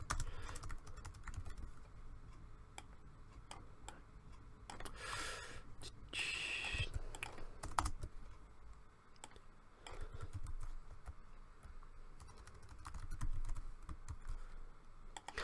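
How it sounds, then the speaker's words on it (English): Code typed on a computer keyboard, a continuous patter of soft key clicks in uneven bursts, close and quiet, with faint breathing and no talking. "let me just type the code first and then I'll tell you guys what I'm doing"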